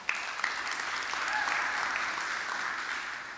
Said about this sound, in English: a round of applause to the students